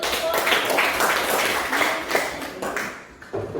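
Classroom applause from students during a maths lesson on algebraic expressions, a burst of mixed claps with some sharp taps, lasting a few seconds and tapering off near the end.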